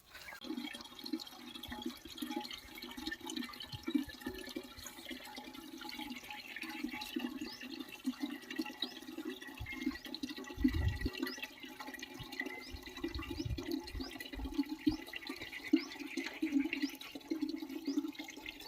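Water gushes steadily out of an outlet set down low in a rural Konkan village in Raigad, a continuous close splashing flow that runs unbroken from start to finish with no voices.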